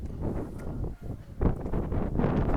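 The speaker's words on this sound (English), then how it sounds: "oh, it's windy now" Gusty outdoor wind buffeting the microphone, a loud rumbling roar that surges and briefly dips, then swells again.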